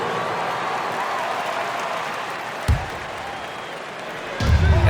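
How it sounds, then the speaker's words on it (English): Crowd applause fills an arena during an NBA 2K26 basketball game between the Nuggets and Warriors, a steady wash of cheering and clapping with sharp court sounds, under a commentator's voice. "please give a big round of applause for your dance team"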